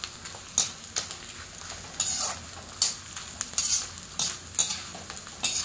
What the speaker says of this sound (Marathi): असा सतत हलवत तळून घ्यायचा आहे